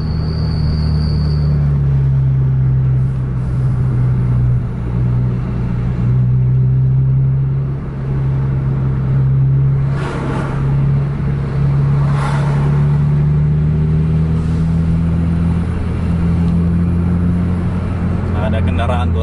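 A JRG Noso intercity bus drives into Langsa, its engine a steady loud low drone with shifting rumble and occasional road noise throughout.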